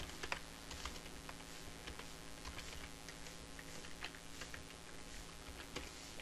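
HTML code is being typed on a computer keyboard, a quick uneven run of soft key clicks heard close and faint over a low background hum.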